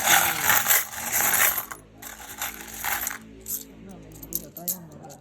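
Coins clatter and drop repeatedly during sorting of old coins, including 25-cent pieces, with bursts of metallic jingling and brief clinks, fairly close and loud, with some mechanical rattling between drops.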